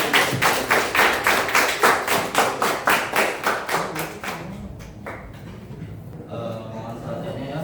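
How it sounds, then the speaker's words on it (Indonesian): A group applauds for a presenting team in a classroom session, a burst of rhythmic clapping that fades after about four seconds into room noise and a voice. "tepuk tangan buat"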